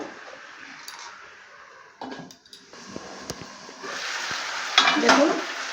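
Fish head chechra being stir-fried in a pan: intermittent scraping of a spatula against metal, with a frying sizzle that grows louder toward the end.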